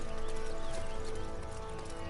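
Horse hooves clip-clopping steadily at a gallop in the Dynasty Warriors video game, a continuous rhythmic drumming with game music and effects behind it.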